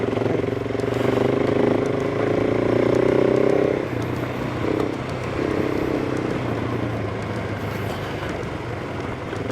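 A KTM 390 Adventure motorcycle riding a dirt road around Shasta Reservoir, its single-cylinder engine droning steadily up close with rises and dips in revs and wind rush throughout, with no talking.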